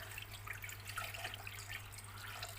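Water poured into a cooking pot of pork and mung bean stew, soft and faint, with a continuous trickling splash over a low steady hum.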